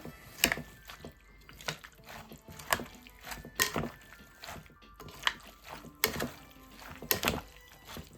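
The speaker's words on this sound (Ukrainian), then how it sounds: "Гарненько все перемішуємо." Beetroot salad with dressing being mixed in a bowl, a series of soft irregular thunks and wet squishing clatters at close range, repeating every second or so without speech.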